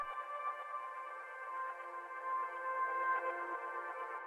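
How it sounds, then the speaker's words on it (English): A reversed piano sample drenched in heavy reverb and delay with the low end cut away, a faint, sustained swelling wash of tones with no attack, playing alone. "you can pick a piano sample as this one over here, reverse it, and add a lot of effects into it"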